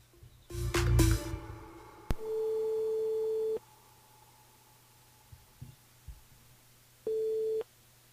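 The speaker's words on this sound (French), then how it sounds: "Allez, c'est parti, on appelle Stéphanie sur le Tampon." Telephone line ringing during a radio phone-in call, two long steady tones separated by a pause, following a burst of louder handling noise at the start, with no voices.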